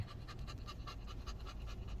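A recently neutered dog pants heavily and rapidly close by, quick rhythmic breaths repeating steadily at a soft level with no talking.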